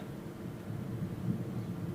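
Low thunder rumbles overhead during a New Mexico storm, a deep rolling growl that swells slightly toward the end, moderately loud with no talking over it.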